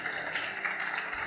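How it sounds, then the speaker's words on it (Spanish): Applause for God rises from the congregation during an evangelical church service, a steady dense wash of clapping over the full short stretch, close and fairly loud with no break. "Denle un aplauso a Dios,"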